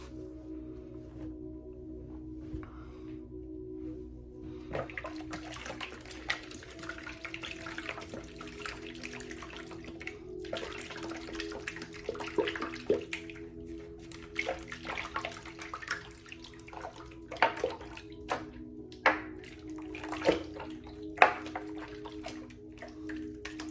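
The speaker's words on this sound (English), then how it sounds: "Doing a quick rinse down of the brush, get all the stuff out" A shaving brush is rinsed under running water in a bathroom sink, a soft trickle with intermittent squishing splashes and clicks growing more frequent, fairly quiet and close.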